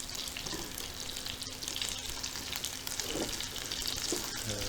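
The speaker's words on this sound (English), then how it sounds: "you always want to add things away from you when you're adding them to a hot saute pan" Frittata ingredients sizzle in a hot sauté pan, a faint steady frying hiss with a few soft clinks and stirring sounds, no voices.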